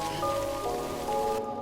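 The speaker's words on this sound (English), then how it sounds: "Sam decides to wait out the rain" Steady rain of timefall in the video game Death Stranding, a continuous hiss over the ground with a layer of sustained game music tones, holding constant before the upper wash drops away near the end.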